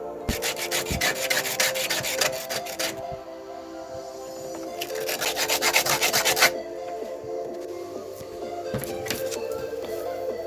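Rhythmic scratchy rasping of sandpaper on wood in quick strokes, fading to softer rubbing in between, close by with no talking.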